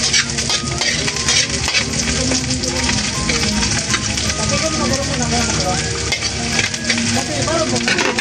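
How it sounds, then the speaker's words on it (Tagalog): Ginger, garlic and onion sautéing in a hot pan, with a steady loud sizzle and frying crackle, occasional utensil scrapes and clinks of stirring, close and continuous throughout. "Ito igigisa ng gusto natin at para lumabas yung bango."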